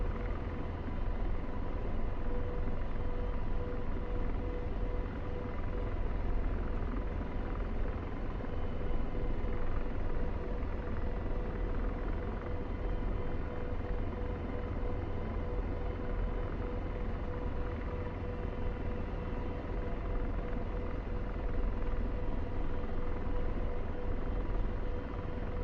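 An AH-64 Apache helicopter flies in a DCS flight simulator. Its rotor and engine give a steady, even droning rumble with a faint whine, continuous and moderately quiet throughout.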